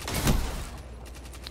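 Rapid gunfire in Destiny 2 PvP, a loud burst of shots up front followed by further crackling rounds trailing off under game ambience.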